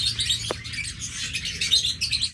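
Lutino Fischer's lovebirds chatter and chirp in a busy, continuous stream of high, close tweets, with one sharper call standing out early.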